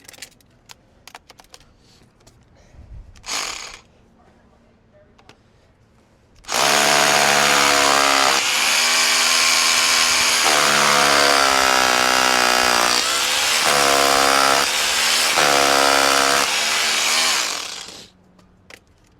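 A Makita DHR263Z SDS hammer drill bores with a small bit, a loud, close, continuous grinding whine lasting about eleven seconds with slight pitch shifts, preceded by a brief burst and scattered light clicks.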